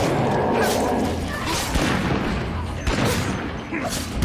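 Video game weapon fire aimed at an enemy, a dense continuous rumble of shots and impacts that stays loud and close for the few seconds heard, with a voice talking over it.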